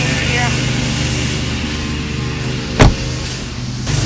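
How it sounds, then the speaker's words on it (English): A car door opens with a single short latch clunk inside the vehicle, over a steady low engine hum; a faint voice is heard at times. "My last time opening the car door for her"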